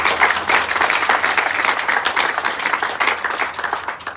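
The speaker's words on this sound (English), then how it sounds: "please give her another special round of applause." An audience at a port groundbreaking ceremony in Shawneetown claps steadily for several seconds, a dense, even wash of applause close by.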